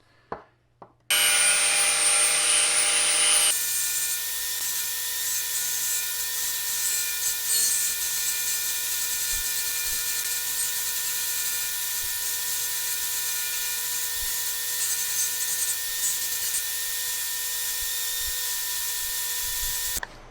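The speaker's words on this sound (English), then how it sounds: "we're just going to do this with the hand grinder" A hand grinder cuts a notch in a metal tube for a DIY phone mount, a steady loud whine that runs continuously after a few brief knocks at the start.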